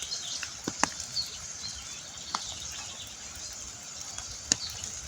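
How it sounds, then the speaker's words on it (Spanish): A river flows steadily in the background of a soaked outdoor setting after rain, with scattered bird chirps and calls sounding above it, short and sharp, some near and some farther off. "Fijaros qué bonito el sonido del río, el sonido de los pájaros que están contentísimos."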